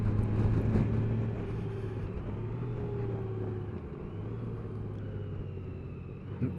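Steady rushing wind noise with a low engine rumble while riding a Honda Gold Wing motorcycle at speed, continuous and moderately loud with a faint tonal drone underneath and no talk.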